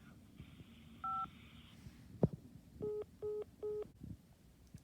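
Phone keypad DTMF tones sound during an automated phone menu, first one short tone, then three evenly spaced beeps after a brief click, all faint and close.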